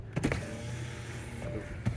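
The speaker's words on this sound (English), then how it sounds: "Just turn the car on so we can open the windows." A parked car's electric power windows run, with a soft steady motor whir lasting about a second between small clicks and thumps, quiet and close inside the vehicle.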